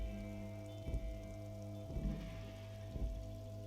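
Steady rain falling in the video game Disco Elysium, a soft continuous patter with a faint low hum beneath and three gentle thumps about a second apart, with no talk.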